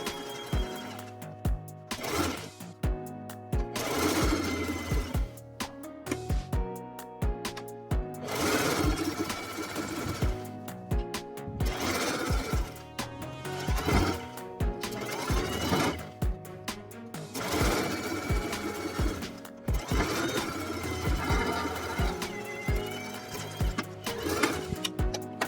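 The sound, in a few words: sewing machine edge stitching a cargo mini skirt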